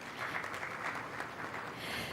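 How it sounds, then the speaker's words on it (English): An audience at a climate summit session gives a short round of applause for the speakers, soft, somewhat distant clapping with a steady patter and no talk over it. "A round of applause for them, please."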